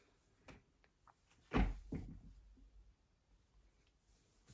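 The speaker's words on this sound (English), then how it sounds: "Excuse my loud chair." A chair creaks loudly as someone rises from it indoors, a sharp burst of groaning and knocking followed by a shorter second creak that fades out, with a few faint clicks before it.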